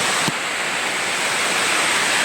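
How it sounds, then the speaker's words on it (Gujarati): Water pours down from the Girnar hills in a full stream, making a loud, steady, close rushing roar with one brief thump near the start. "આ બધું છે ને ગિરનારમાંથી આવે પાણી આખા ડુંગરમાંથી છે ને નીચે આવે"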